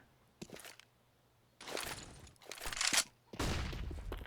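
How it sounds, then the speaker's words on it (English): Gunfire during a shootout in a competitive first-person shooter match, several loud bursts of rapid shots with short pauses between them. "as they're firing bullets at each other"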